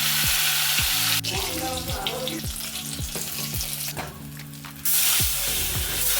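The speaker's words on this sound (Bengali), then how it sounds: "তেল গরম হয়ে গেছে, এবারে মাছগুলো ভালো করে ভেজে নেব লাল করে।" Fish pieces, head and tail among them, fry in hot oil with a loud, continuous crackling sizzle close up, broken by a few spoon clanks and a brief drop in the hiss.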